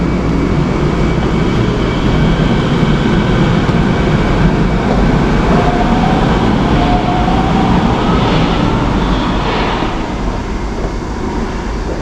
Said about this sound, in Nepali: ट्रेन मिस भयो गाइज।